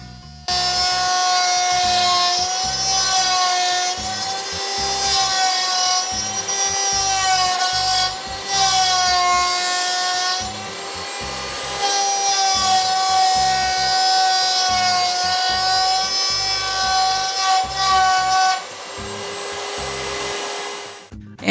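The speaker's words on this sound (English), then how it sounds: "To make the groove on one side of each of the boards, we'll use a straight cutting bit in the router," A router fitted with a straight cutting bit grooves wooden boards about one centimetre deep, a loud, sustained high whine that holds steady for long stretches, dips briefly, then resumes, close up and with no voices.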